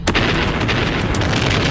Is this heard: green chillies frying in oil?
no